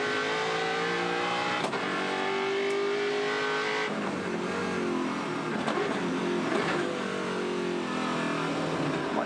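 Onboard engine of a 2016 Touring Car Masters race car at Winton, roaring loudly and steadily as it revs up through the gears, with brief dips where the driver flat-shifts without the clutch, and no voices.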